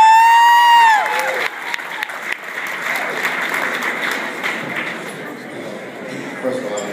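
Applause and cheering from a crowd at the 2012 Men of Power and Influence awards ceremony honoring Angelo Taylor, bursting in after a brief tone, then continuing steadily at moderate volume.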